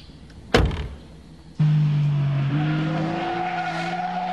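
A 996-generation Porsche 911 GT3 street car on a winding mountain road at Shuzenji, Izu: one sharp bang, then a loud close engine note that climbs in pitch as it pulls away, with a hint of tire noise.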